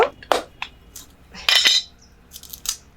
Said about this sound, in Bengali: প্রথমে তালের আটিগুলোকে একই রকম ভাবে কেটে নেব।